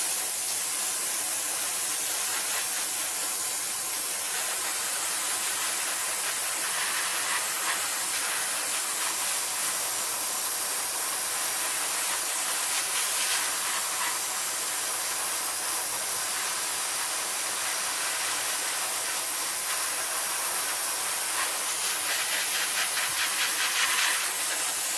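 Airbrush spraying blue paint onto a Hasegawa 1:72 Kawasaki T-4 Blue Impulse model kit, a steady, close airy hiss that carries on continuously with slight pulses as passes are made.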